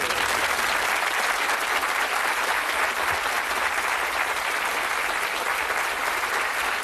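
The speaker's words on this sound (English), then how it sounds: "Give them a big cheer because they've done it." A TV game-show studio audience breaks into loud, sustained applause with cheering, a dense steady roar of clapping that holds at full level throughout.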